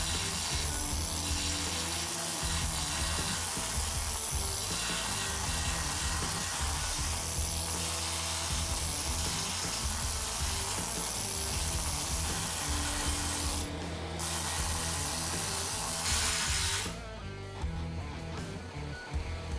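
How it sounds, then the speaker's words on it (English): Cheap Harbor Freight needle scaler hammering scale off the steel frame of a 1979 Ford Bronco, a loud, dense, continuous rattling buzz that drops out briefly and then resumes rougher near the end. "This is a needle scaler, just a cheap tool that I picked up at Harbor Freight."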